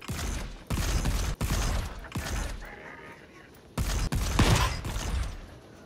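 Turrets fire in the game Volcanoids as bursts of loud mechanical gunfire, with several separate volleys broken by brief quiet gaps.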